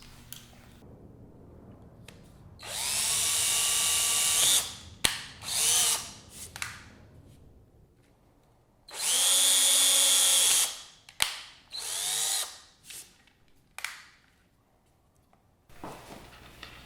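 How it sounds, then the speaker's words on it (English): A power drill with a 1/8 inch bit bores mount holes through MDF in two long, loud whining bursts, each followed by shorter stop-start revs and clicks, close up with quiet gaps between. "I'm also going to use a 1/8 inch drill to go through my mount holes"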